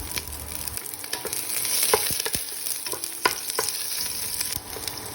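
Garlic frying in cooking oil in a pan while being stirred, a steady broadband sizzle with scraping utensil strokes throughout, fairly close and continuous with no talking.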